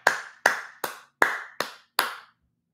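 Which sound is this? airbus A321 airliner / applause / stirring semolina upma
applause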